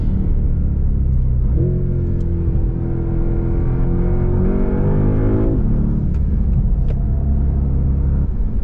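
A Porsche Panamera weighing over two tonnes is driven fast on a circuit: a loud, close engine drone rises steadily in pitch under acceleration, then drops back, with no talking.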